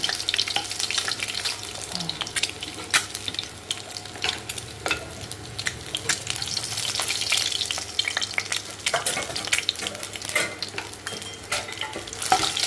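Garlic frying in oil gives a continuous close sizzle, with crackles and occasional scraping stirs against the pan.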